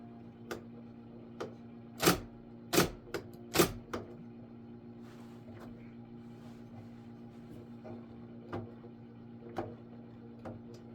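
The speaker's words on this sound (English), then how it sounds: "you can see it's moving this platen slightly to make more room behind it to fit more papers in" An IBM Selectric Correcting II typewriter shifts its platen, giving a few sharp mechanical clicks and clunks spaced irregularly, close and fairly quiet against a low steady hum.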